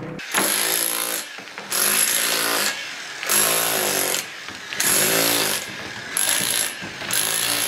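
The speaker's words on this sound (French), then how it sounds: "on avance donc sur le perçage du mur, où on a déjà commencé à enlever les pierres" A power tool cutting through a stone load-bearing wall, where an opening is being made for a door, in loud repeated bursts of grinding, about five cuts with short pauses between them.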